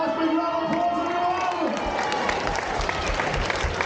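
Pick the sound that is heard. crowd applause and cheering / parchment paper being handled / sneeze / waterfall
crowd applause and cheering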